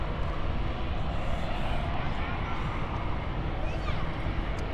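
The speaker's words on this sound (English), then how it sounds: "It's the Challenger 350 going to Southampton by the looks of things." A Bombardier Challenger 350 business jet near London City airport, heard as a loud, steady broadband engine roar that holds evenly throughout.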